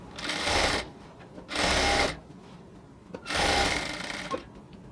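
A sewing machine runs a double seam on a salwar in three distinct bursts of steady, close whirring separated by brief pauses, with no voices.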